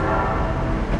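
Train in Train Simulator Classic: a close, steady engine rumble with a brief horn-like tone, heard alone for about a second.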